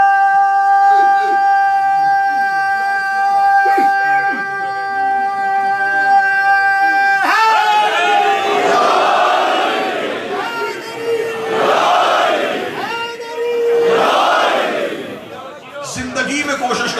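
A crowd at a Muharram majlis gathering in London chants a religious slogan in unison, loud rising shouted bursts repeating several times after a sustained tonal opening.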